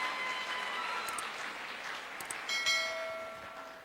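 Applause from a large crowd at a big event hall, a broad wash of clapping heard fairly far off under sustained bell-like musical tones that swell toward the end.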